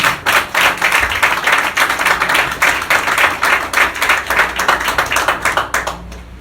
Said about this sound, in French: Acclamez ça pour le Seigneur